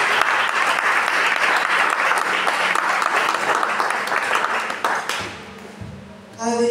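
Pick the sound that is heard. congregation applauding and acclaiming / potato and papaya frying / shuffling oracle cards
congregation applauding and acclaiming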